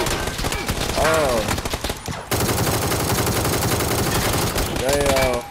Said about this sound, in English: I shot him once in the corner.